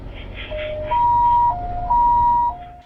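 An ambulance siren alternates between two pitches, rising and falling in a steady, loud, fairly close cycle while it rushes an injured person from a train accident in Taiwan to hospital.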